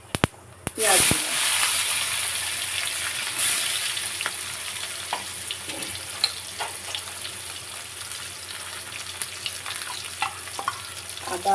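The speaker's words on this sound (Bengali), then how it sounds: "জিরে ফোড়ন দিলাম, তারপরে এই পেঁয়াজ দিলাম" Onions and cumin seeds frying in hot oil for a fish curry, a steady bright sizzle with occasional crackles and stirring scrapes, close and continuous throughout.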